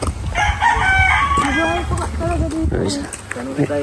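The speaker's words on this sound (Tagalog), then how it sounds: "Ay, may mga manok" A rooster crows loudly nearby while chickens cluck around it, with people talking over the birds.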